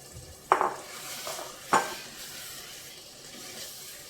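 Marinated mutton goes into a pan of fried spice masala. Two sharp metal clanks of a spoon against the pan ring out over a low steady sizzle.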